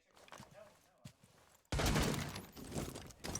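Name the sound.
Thatcher grenades going off in Rainbow Six video game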